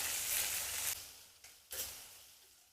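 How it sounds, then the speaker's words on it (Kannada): Chopped onion and two green chillies sizzle steadily in a hot pan, a loud continuous hiss that drops and returns in bursts as the pieces are stirred. "ಸ್ವಲ್ಪ ಫ್ರೈ ಮಾಡಿಕೊಳ್ಬೇಕು"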